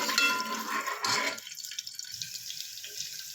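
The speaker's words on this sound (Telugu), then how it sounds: "ఉల్లిగడ్డలు ఫ్రై అవుతున్నాయి కదా" Onions fry in oil in a pan for a Telangana-style country chicken curry, a loud close sizzling hiss that drops off after about a second into faint, scattered crackles.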